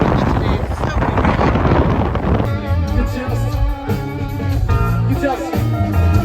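Strong wind blows at a beach in Crete, a loud, close, roaring buffet against the microphone that is constant throughout, shifting in tone partway through, with no clear talking.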